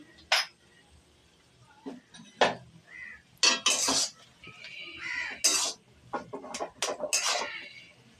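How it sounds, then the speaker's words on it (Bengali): A spoon scrapes and clinks against a metal wok while spices are stirred into food, with irregular bursts of clatter separated by short pauses and quieter stretches. "এইভাবে নাড়িয়ে এটা ভালো করে মাখিয়ে নিলাম কড়াইয়ের মধ্যে"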